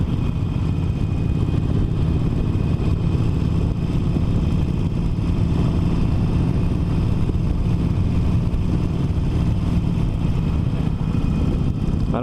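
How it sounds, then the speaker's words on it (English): A Harley-Davidson Forty-Eight motorcycle engine drones steadily at low revs while riding, a dense continuous low rumble mixed with wind rush, loud and unbroken with no talking. "So there is a lot of vibration from the engine."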